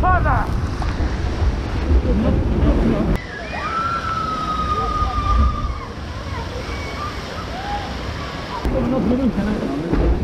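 A water ride at the Plopsa Coo amusement park in Stavelot splashes down into water, giving a loud rush and sloshing with wind noise, while people talk and exclaim throughout.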